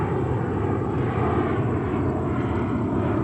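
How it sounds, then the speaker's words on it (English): An Air India Boeing 777-300 taxiing toward the runway at New York JFK, with a steady, broadband jet engine rumble and whine that holds at constant loudness with no talk over it. "here we see Air India 777-300 service to Mumbai"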